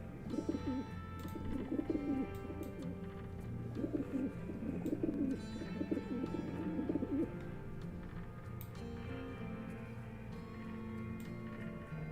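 Pigeons coo in soft, repeated throaty phrases over several seconds, then fade into a steady background hum.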